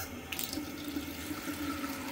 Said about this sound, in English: Now I'm going to walk upstairs to a high point and open some faucets.